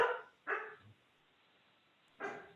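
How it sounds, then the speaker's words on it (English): A dog barks in the background of a home setting, giving three separate barks: two quick ones close together, a pause, then a third. Each bark is moderately loud, and no one speaks. "sorry, that's my dog in the background."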